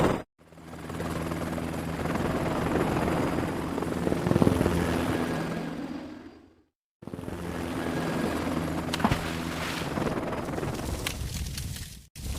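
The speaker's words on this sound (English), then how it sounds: "The main rotor lifts a helicopter upwards." A helicopter's main rotor in a kids' building video game makes a loud steady whirring roar, cutting off briefly midway and then starting again just as loud.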